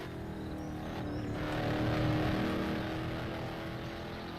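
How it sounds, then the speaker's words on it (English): A Formula Drift race car runs on a road course, its engine a steady loud drone with harmonic tones that swells slightly toward the middle, heard from a distance without speech. "I think he is a Formula Drift car."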